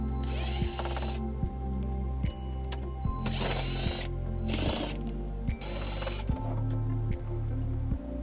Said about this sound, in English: we're going to be using a Phillips bit to take that off